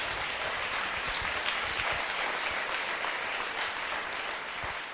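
A church congregation applauding, with dense, steady clapping filling the whole span, loud and sustained without a break.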